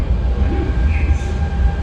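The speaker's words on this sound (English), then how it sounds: "There's a train every couple of minutes" Metro train at a Shanghai station, a loud close low rumble with a steady hum and faint metallic squeal over under two seconds.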